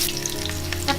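Ginger hits a little hot oil in a pot for a Cantonese lamb casserole, bursting into a loud, close sizzle with sharp crackles and a brief flare near the end.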